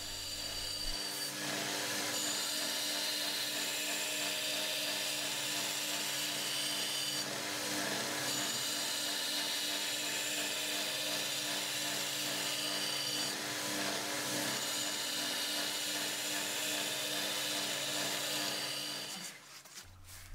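High carbon steel knife blade ground on a grinder with a jig to set its bevels, a loud, steady, close abrasive whine running without pause for about twenty seconds before cutting off at the end.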